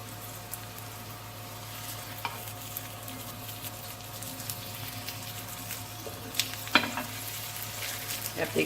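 A pizza paratha frying in a pan, giving a steady close sizzle with soft crackles and a few louder stirring or pressing clicks toward the end, no talking.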